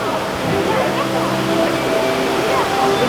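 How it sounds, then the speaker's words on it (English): A waterfall along the Pirates of the Caribbean boat ride at Disneyland, a steady rushing splash of falling water filling the space, with faint tonal ride sounds and voices beneath. "This is a waterfall."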